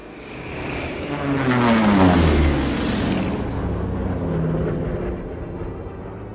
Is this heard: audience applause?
no